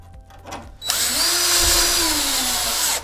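A power drill drives a quarter-inch structural screw into a wooden floor joist, a loud steady whine that starts abruptly after a short handling noise and holds for about two seconds as the screw snugs up.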